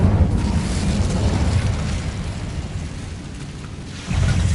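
Incendio fire spell in Hogwarts Legacy, a loud boomy burst that rumbles and fades over several seconds before a second blast hits at the end.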